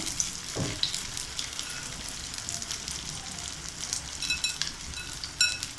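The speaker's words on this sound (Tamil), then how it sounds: "இதுக்கு எண்ணெய் ரொம்ப தேவைப்படாது, நம்ம லேசாக ஃப்ரை பண்ணாலே போதும்." Stuffed vegetable chapati frying lightly in a little oil, a soft steady sizzle with faint crackles and small clinks scattered through, close and moderately quiet with no talk.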